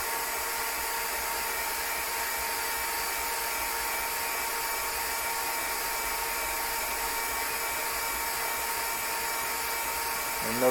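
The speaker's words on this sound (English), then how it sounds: "There's the fan coming." A cooling fan on a 3D printer runs at a steady, loud, even whoosh the whole time, with a constant airy hum close to the microphone and no talking over it.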